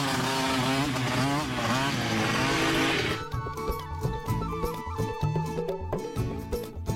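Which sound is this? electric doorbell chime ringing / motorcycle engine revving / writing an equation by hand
motorcycle engine revving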